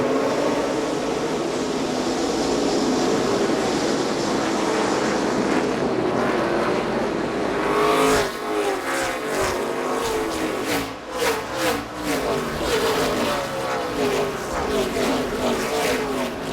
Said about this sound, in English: Gentlemen, drivers, start your engines.